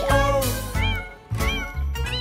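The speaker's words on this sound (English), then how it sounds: "There was a farmer who had a cat" An animated cartoon cat in a farmer nursery rhyme gives two loud, clear meows in quick succession, close and bright, with no singing over them.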